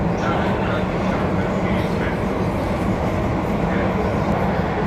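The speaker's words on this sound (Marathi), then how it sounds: "पण हे बघा आवाज बघा मेट्रोचा" Inside a moving Mumbai metro carriage, a loud, constant rumble and rush of the train fills the whole clip, with muffled voices faintly mixed in.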